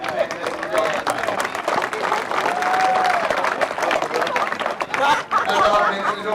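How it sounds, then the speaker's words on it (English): An audience at the presentation after the OEFN under-14 girls grand final between Healesville and Wesburn applauds Wanda, a dense, steady round of clapping mixed with crowd chatter and voices that lasts the whole stretch. "If we give Wanda a big round of applause"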